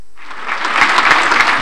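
Applause from a standing crowd at an international conference swells up quickly and continues as steady, dense clapping.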